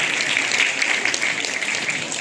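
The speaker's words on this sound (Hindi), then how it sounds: "एक बार जोरदार तालियां इन सबके लिए।" Audience clapping steadily at an award ceremony honouring recipients of a Hindi prize, a dense, even wash of many hands lasting the whole stretch with no voices over it.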